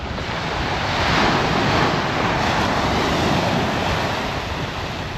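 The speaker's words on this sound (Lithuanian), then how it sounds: "Ir nuo jūros tokia šiltas vėjelis" A warm sea breeze and surf wash on the Mediterranean shore at Roquetas de Mar, Spain, forming a steady broad roar of waves and wind that swells slightly and stays constant.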